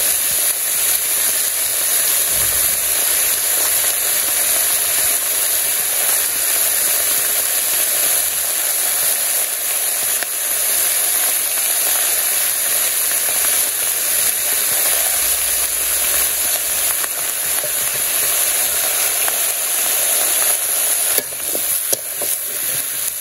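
Vegetables seasoned with salt, turmeric and chili sauté in a pan with a continuous, even hiss of frying. A few faint clatters come near the end, and no voices are heard.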